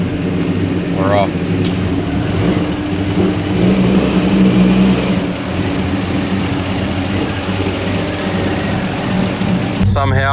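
A car with massive flames from the exhaust pulls away, its medium engine droning steadily and revving under loud, continuous broadband noise throughout.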